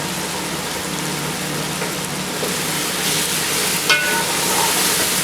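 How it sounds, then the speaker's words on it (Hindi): Chickpea pulao ingredients, including chicken cube and dried plums, roast in a pan with a loud, steady, close hiss of frying that sounds rain-like, with a few faint stirring knocks and no talk. "अच्छे तरीके से इसकी भुनाई करेंगे।"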